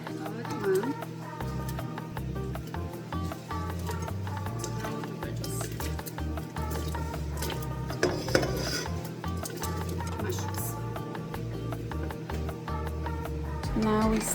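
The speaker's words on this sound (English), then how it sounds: "Now we stir it" A spoon stirs a pot of chicken feet mushroom soup with vegetables, its clinks and scrapes against the metal pot sounding near and sporadic. A voice talks over the stirring now and then.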